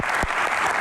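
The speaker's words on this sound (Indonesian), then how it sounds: "Tepuk tangan sekali lagi untuk Bapak." Audience applause at a Q&A event, a short burst of dense clapping from a crowd, loud and close, with no talk over it.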